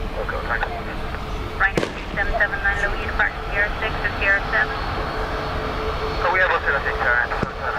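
A passenger jet departing Dublin Airport and passing overhead: a broad, steady roar of aircraft engines beneath radio chatter and people talking, with a couple of sharp clicks.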